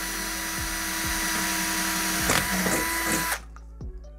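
A power drill whines steadily at high speed, drilling into an IKEA lamp, close and loud, for several seconds before cutting off, leaving a faint hum and a few taps.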